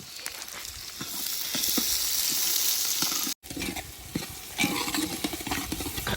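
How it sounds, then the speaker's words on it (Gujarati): Onions fry in a pan for a mutton and egg curry, with a steady close sizzle, a brief cut partway, then clattery stirring and scraping. "ડુંગળીને રાતી થવા દઈશું"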